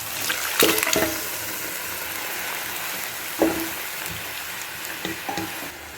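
Mutton pieces fry in a pan with sautéed onion and ginger paste, a steady close sizzle with a few brief clattering bursts of stirring.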